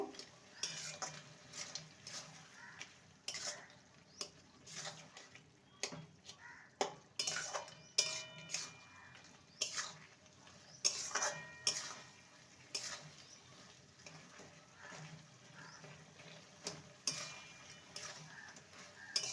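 Fried lentil dumplings are stirred into spinach curry in a pan, with soft, irregular scraping and clinking from the utensil, quiet and close, and no talk.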